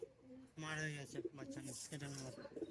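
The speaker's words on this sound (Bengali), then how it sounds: "এগুলো সবই গিরিবাজ পায়রা" Giribaz pigeons at a pigeon sale in Murshidabad coo softly in low, rolling phrases, faint and a little distant, with voices mixed in.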